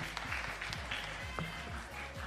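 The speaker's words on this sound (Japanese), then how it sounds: "戦いを終えた両選手に大きな拍手をお送りください" Applause from an audience after a fight at a Japanese event, clapping moderately beneath a rhythmic, thumping background.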